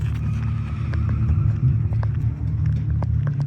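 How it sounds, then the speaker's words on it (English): A V8-powered 740 drift car on a newly built drift track, a steady low engine rumble heard from a distance that holds evenly throughout, with no voices. "here goes our boy Jake in the V8 powered 740"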